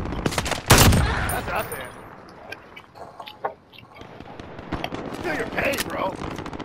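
Gunfire in Call of Duty Modern Warfare: a loud, close burst of rapid shots at the start, then scattered quieter distant shots and ambient battle noise, with someone talking over it.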